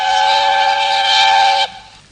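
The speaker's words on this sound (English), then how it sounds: "Presently, he heard a whistle." A steam train whistle gives one long, loud, steady blast close by, holding about a second and a half before cutting off sharply into quiet.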